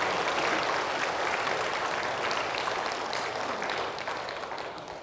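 A church congregation applauds during a Sunday service, a steady wash of clapping at moderate distance that gradually tapers off toward the end.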